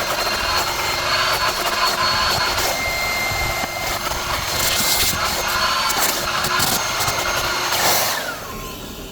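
Prolux wet/dry garage vacuum running steadily while cleaning a car interior, a loud continuous whine with rising and falling suction as the nozzle moves over spots, then dropping in level near the end.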